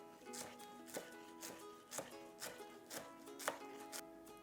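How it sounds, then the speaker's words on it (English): A knife chops fresh cilantro on a cutting board in a steady rhythm, roughly two crisp taps per second, close and fairly quiet against a faint kitchen hum. "I'm going to slice up some cilantro here just to garnish it with."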